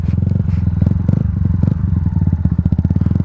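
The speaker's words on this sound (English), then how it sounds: "I tend to just blip the throttle a little bit" A Yamaha MT-125 motorcycle engine idles with a fast, loud pulsing putter close by, plus brief throttle blips that raise the revs slightly, with no talking.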